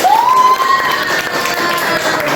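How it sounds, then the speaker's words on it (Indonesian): Students in a classroom teaching session clap together in a dense, steady burst lasting the whole stretch, fairly loud and close, with a brief rising whistle-like tone at the very start. "Tepuk tangan dong, Pak"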